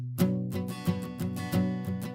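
A strummed guitar part played back from an Ample Sound VST plugin, with bright, rhythmic up and down strokes repeating steadily, clean and without voices.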